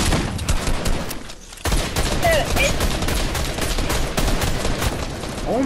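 Rapid video-game gunfire fills the scene with dense, repeated sharp shots close up, a short lull near the start, then continuous bursts throughout; no speech is heard.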